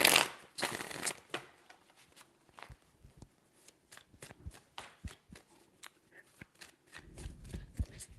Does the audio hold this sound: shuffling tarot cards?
yes